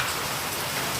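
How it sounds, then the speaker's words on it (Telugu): Heavy hailstorm with pouring rain, a dense, steady hiss of drops and pellets hammering surfaces close by, unbroken for the whole moment with no voices. "ఇక్కడ వడగండ్ల వర్షం పడుతుంది మనకి"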